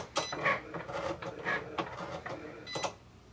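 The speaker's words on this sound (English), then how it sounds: "All you have to do is hit your little Cricut head, and the machine will go to work" A Cricut Explore cutting machine works through material with quick mechanical whirs and clicks, a series of short irregular bursts and carriage movements heard up close and fairly quiet, with no talking.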